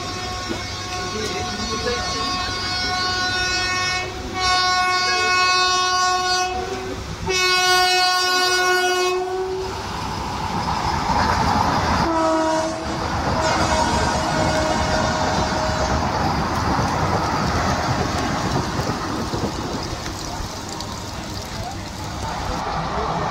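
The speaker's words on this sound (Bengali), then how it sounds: "হাওড়া রামপুরহাট শহীদ এক্সপ্রেস।" The Howrah–Rampurhat Shahid Express passes close by a halted local train at a signal near Shaktigarh, its horn blaring in long sustained blasts over the continuous loud rumble and rattle of the moving coaches, with voices underneath.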